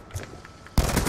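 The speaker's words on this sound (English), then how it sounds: "The gun sounds so bad, but it's so good." Gun firing in Black Ops 2, a loud burst of rapid automatic fire that cuts in abruptly after a short quiet stretch with faint taps.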